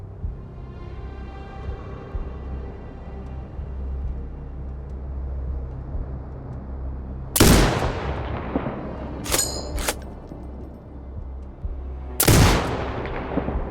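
Sniper rifle shots ring out in Sniper Ghost Warrior Contracts 2, with sharp loud cracks and trailing echoes heard about three times over a low ambient hum.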